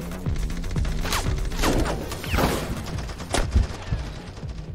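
Gunfire in the video game Bloodshore comes as rapid bursts of overlapping shots and impacts, a loud, busy fusillade with a few sharper cracks, no voices.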